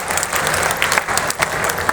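A crowd at a public road groundbreaking ceremony in Unhel, Ujjain district applauds loudly, dense continuous clapping close by with little else audible.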